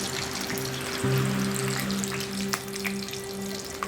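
Green chillies and curry leaves sizzle in hot oil in a home kitchen, a steady close crackling fry with a sharper burst of spitting near the start and scattered pops throughout.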